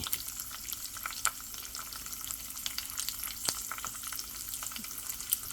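A dried red chili, green chilies, curry leaves and asafoetida fry in hot oil for potato pachadi, a quiet continuous sizzle scattered with sharp pops and crackles, heard alone without talk.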